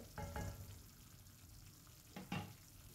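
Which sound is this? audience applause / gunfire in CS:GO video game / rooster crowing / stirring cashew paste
stirring cashew paste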